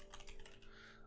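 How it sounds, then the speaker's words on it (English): Brief burst of typing on a computer keyboard while entering text in After Effects software: a quick run of crisp, close key clicks over about a second, with no talking. "So I'm just going to type in here"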